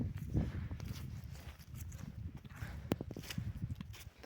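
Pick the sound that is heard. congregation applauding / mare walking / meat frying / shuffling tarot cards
mare walking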